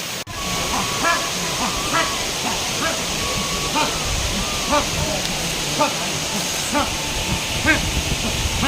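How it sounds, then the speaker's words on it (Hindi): A forest waterfall along the Narmada pours in a steady, dense rushing hiss, with sharp dog-like barks or calls breaking through every second or so. "और नीचे झरने"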